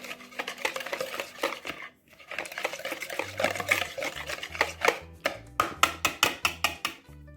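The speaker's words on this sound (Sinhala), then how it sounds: "මේක අපි හොඳින් මේ විදියට මික්ස් කරගන්න ඕනේ." Coleslaw ingredients with lime juice are mixed in a bowl, giving a steady run of wet stirring, scraping and clinking, with sharper rhythmic taps toward the end.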